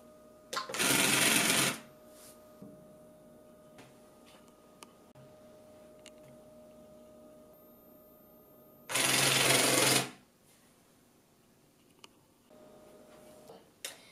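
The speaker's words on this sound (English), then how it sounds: "The EV3 brick is connected to a medium motor. The medium motor is connected to a gear." A LEGO EV3 medium motor turns gears that drive treads, giving two short whirring bursts about a second each, separated by a long quiet stretch with faint ticks.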